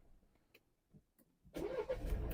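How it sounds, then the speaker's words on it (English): A Mercedes car engine cranks and catches after several quiet clicks, then settles into a steady, close idle rumble, loud and alone. "start the car"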